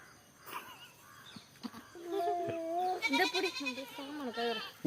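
Goat bleating, with a few wavering bleats in the second half, fairly close and moderately loud, mixed with other animal calls and background noise.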